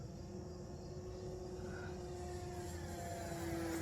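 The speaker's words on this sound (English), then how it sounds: "So we'll do a full speed flyby so you can get an idea of the speed on the 4-cell." A small radio-controlled 3D biplane on a 4-cell battery makes a full-speed flyby, its electric motor a faint, steady high whine heard from a distance against outdoor background noise.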